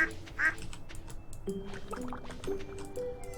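Cartoonish duck quacks from the Stardew Valley video game, a couple of bright calls near the start over game music and light watery effects, with chirpy sound effects continuing behind.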